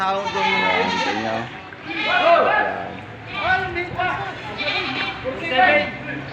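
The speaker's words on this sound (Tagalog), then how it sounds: "Ito ho yung paradahan ng mga alagaing kambing, mga hybrid." Hybrid goats bleat repeatedly in overlapping wavering cries at a goat market in the rainy season, several animals close by, with background crowd noise.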